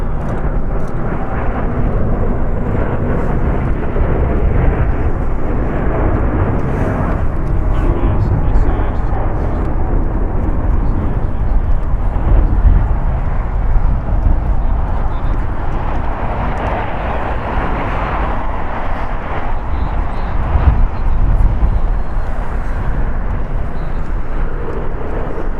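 A Boeing 787-10 Dreamliner, five years old, roars at LAX airport in a loud, continuous low engine rumble that swells slightly midway and holds steady throughout.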